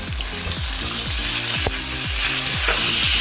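Canned tuna and onions sautéing in a hot pan, a loud, continuous close sizzle and crackle with rhythmic stirring strokes scraping the pan, and no voice.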